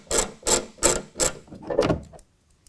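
A T30 Torx bolt being removed from the bed of a 2019 Ford Ranger pickup, a run of five evenly spaced ratcheting clicks, close and clear, then silence.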